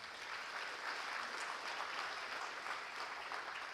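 A school awards banquet audience applauds its high school and elementary principals with steady, dense clapping throughout, a fairly even wash of hands that neither builds nor fades much.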